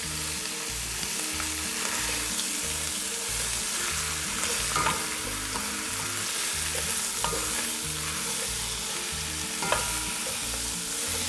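Chopped onion and carrots stirred in a roasting pan, a continuous hot sizzle with scraping and stirring movements, close and steady, no talking.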